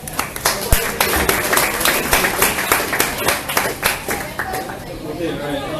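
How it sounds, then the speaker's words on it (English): A small crowd at a Green Drinks KL meetup claps for a speaker, scattered sharp hand claps mixed with chatter and talking voices, tapering off near the end. "please give yourself a round of applause to Simpson"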